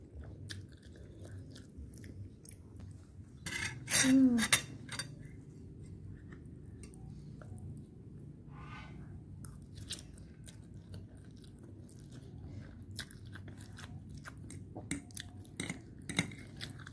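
Fried noodles being eaten, heard as steady close-up chewing and biting with soft crunchy clicks and occasional light cutlery or dish taps, including a louder bite cluster early on.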